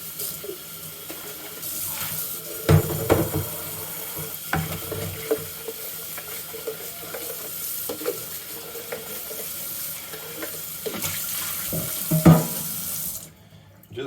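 Tap water runs and splashes while a HomeRight Finish Max paint sprayer is rinsed out after water-based paint, with irregular clatters and gurgles, close by, then cuts off.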